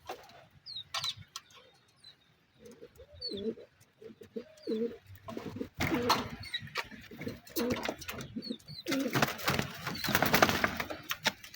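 Racing pigeons being readied for a derby, with low cooing phrases and birdcalls at close range, plus wooden knocks and rustling that grow busier and louder toward the end.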